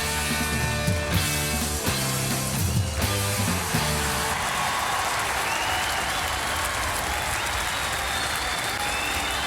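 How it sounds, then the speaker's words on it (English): A concert audience roars and applauds loudly as the song ends, with music fading into sustained dense clapping and cheering. "And the crowd is roaring at the end."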